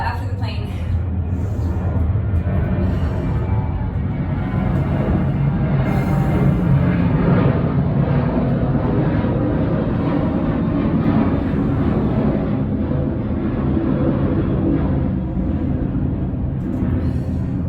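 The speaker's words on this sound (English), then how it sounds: "We'll go after the plane." An airplane passes overhead during a hole-in-the-wall workout, heard as a steady, broad low rumble that holds for the whole stretch and swells slightly in the middle, with no talk over it.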